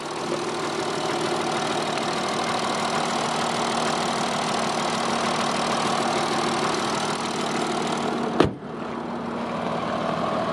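A cold 3.0 TDI diesel engine in a 2016 Audi A6 Allroad idles steadily with a low, even clatter and hum, close by, with a brief sharp click near the end.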